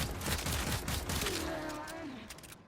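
Rapid bursts of fire from the Detron weapon in the video game Warframe, loud dense blasts filling the short clip, with a voice speaking over the gunfire.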